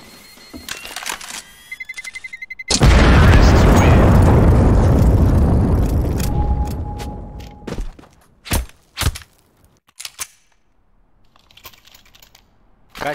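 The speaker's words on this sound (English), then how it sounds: "Throwing flashbang." A flashbang grenade in Counter-Strike on Dust 2 goes off with a sudden loud blast that rings and slowly fades over several seconds, surrounded by scattered clicks, clinks and sharp game effects.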